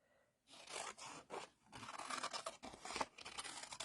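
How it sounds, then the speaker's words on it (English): Scissors cutting paper flowers out of a bouquet design for a papercraft project, a run of close crisp snips and crunchy paper slicing in quick irregular bursts. "I can go in and just go snippety snip"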